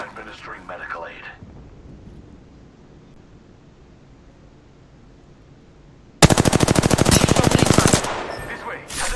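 Rapid automatic gunfire in a video game breaks out loud and sustained for about two seconds after a quiet stretch, with a game character's voice lines heard near the start and end.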